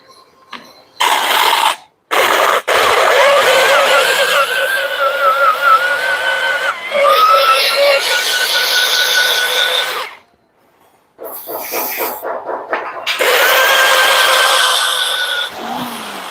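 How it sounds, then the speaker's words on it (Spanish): A drill bit bores out a worn bushing on a Volkswagen Worker truck's gearshift linkage: loud, close drill whine in long bursts, stopping briefly and restarting, with a short gap near the end. "Ahora vamos a perforar el buje que falta"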